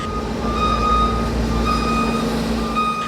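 Shunting trucks on the container docks at Lamu port in Kenya, with a repeated high reversing beep pulsing over a loud, steady diesel engine rumble nearby.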